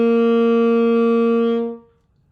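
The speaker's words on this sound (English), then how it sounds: "Third, we've got our G." A single held G on a saxophone, played with three left-hand fingers, rings steady and near for under two seconds, then fades, alone without voices.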